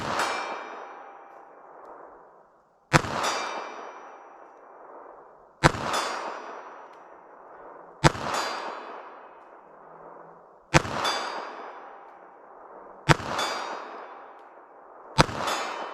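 Seven sharp .32 ACP pocket pistol shots fired at a measured, steady pace outdoors, each crack followed by a rolling echo that fades before the next, heard from some distance with no talking.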